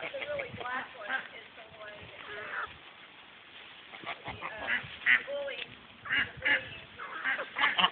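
Geese and ducks honk and quack in a noisy flock nearby, irregular bursts of calls overlapping, with a person speaking among them.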